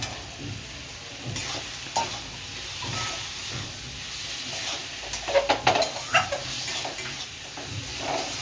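Potatoes with turmeric and Kashmiri chili powder sautéed in a pan for macher dim, with a low steady sizzle broken by repeated scraping stirs of a spatula that grow busier midway, without any talking.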